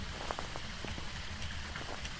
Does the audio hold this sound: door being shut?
no